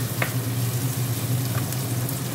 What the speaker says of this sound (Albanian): Ndërkohë që qepa e skuqur, do t'i marrim t'i hedhim edhe speckën e kuqe.